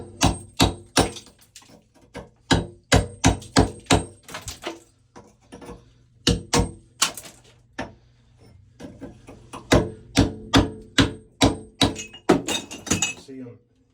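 Tile and mortar being chipped off a shower wall around the valve: a rapid series of loud, sharp knocking impacts in bursts, each strike cracking and clattering close by, with short pauses between runs.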